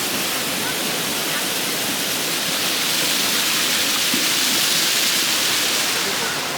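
Hot spring water in Japan rushes down open cooling channels, a continuous broadband splashing roar that stays close and steady throughout with no talk over it.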